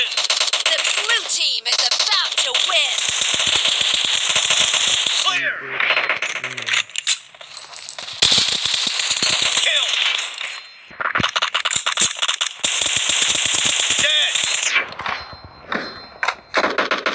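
Gunfire in PUBG Mobile, sustained automatic shooting with metallic rattling and clinking of spent casings, steady and loud with brief pauses, and a voice talking at times.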